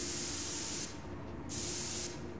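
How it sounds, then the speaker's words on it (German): An aerosol spray can hisses in the Prison Simulator video game, with two loud, steady bursts separated by a short pause and no voices. "Holen wieder die Spraydose und sprühen wieder."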